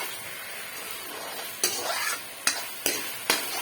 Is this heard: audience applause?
no